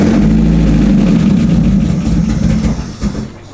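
Mazda Miata engine running close by just after a cam angle sensor replacement, a low steady idle with slight unevenness that fades toward the end.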